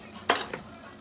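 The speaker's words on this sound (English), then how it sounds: "You know, you gotta scrape it all up" Spatula scraping and stirring a potato and meat filling for pastelillos in a pan, one sharp scrape followed by a softer second stroke over a steady sizzle, close and with no talk.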